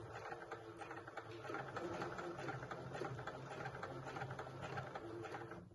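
A home sewing machine stitches slowly along a marked line on dress fabric, a quiet, steady rapid whirring and ticking that runs without a break for several seconds, fairly faint.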